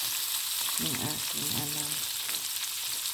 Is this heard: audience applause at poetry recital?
no